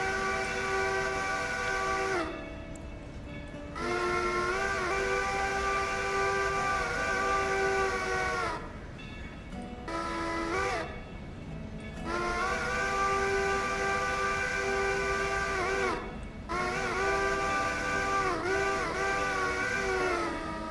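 A modded steam locomotive in the Railroader video game sounds a long chime whistle in repeated loud blasts of several seconds each, separated by short gaps, over low rolling rumble.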